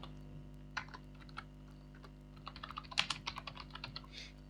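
Typing on a computer keyboard while writing a Python strings exercise, with sparse keystrokes at first and then a quicker burst of clicky taps over a steady low electrical hum, and no talking.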